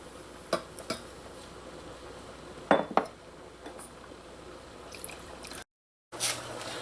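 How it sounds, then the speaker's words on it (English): Sugar and water go into a pot for coconut kurma, with a few light clinks and taps of utensils and glass against cookware, then a soft pour and wet squish close by. "so I'm going to add those things to my pot"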